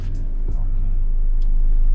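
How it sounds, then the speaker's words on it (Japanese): Grab taxi car driving through Manila, its low steady engine and road rumble heard from inside the cabin, with a brief knock partway through. "今ねタクシーグラブ乗りました"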